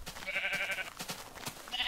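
Minecraft sheep bleating twice, a wavering nasal baa followed by a shorter second bleat at the end, with soft clicking and footstep-like taps between them.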